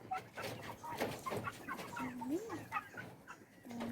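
Chickens cluck on a poultry farm in soft, scattered calls that come and go at low volume, with faint background murmur.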